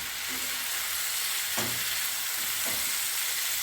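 Bitter gourd frying in oil in a pan for a Tamil-style fry, a continuous steady sizzle with a couple of brief stirring scrapes partway through, close and even.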